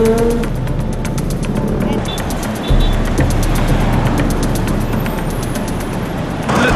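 Jeeps and buses moving through roadside traffic, with engine rumble, passing vehicles and a steady roadway hiss, while people talk nearby over the noise.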